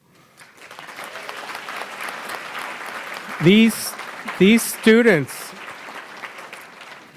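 Audience applause fills a PharmD class of 2023 awards celebration, steady clapping running under a voice throughout as he speaks over it.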